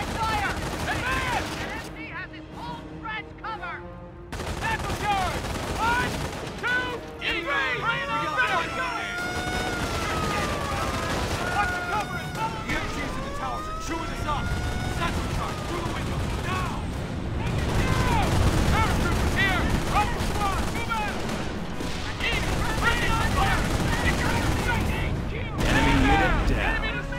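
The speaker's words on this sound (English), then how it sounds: "Taking automatic fire." Automatic gunfire rattles through a Company of Heroes battle on the Sottevast map, bursts of fire and distant blasts layered over a dense combat din, with voices calling out between the shots.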